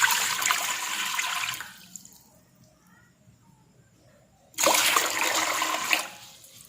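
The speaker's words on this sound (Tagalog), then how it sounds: "maglagay po tayo ng tubig dito" Tap water pours into a cooking pot for sinigang, a Filipino sour fish soup, in two steady gushing bursts separated by a quiet pause, close and fairly loud.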